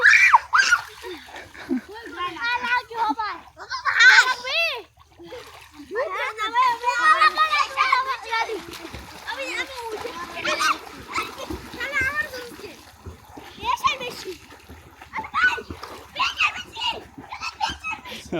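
A child splashes in water while ducking under, with bursts of splashing mixed with excited shouts and screams, and other voices talking and urging throughout.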